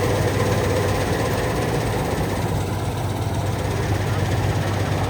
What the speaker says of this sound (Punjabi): ਸਿਰਫ ਬਸ ਇੰਜਣ ਇੰਜਣ ਦੀ ਆਵਾਜ਼ ਆਉਂਦੀ ਹੈ